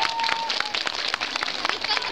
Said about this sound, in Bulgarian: Искам да чуя аплодисменти за тях.